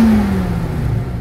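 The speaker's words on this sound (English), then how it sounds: "Now revving up the engine a little" The engine of a 1929 Cord L29 revs briefly, a short loud rising-then-easing growl close by with no talking.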